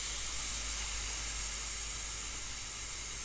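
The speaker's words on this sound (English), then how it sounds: "First thing is to make sure all the air pressure is out before we open the top." Trapped air vents in a steady hiss from a Smith Contractor garden sprayer as its pressure is released, a continuous close rush that holds level throughout.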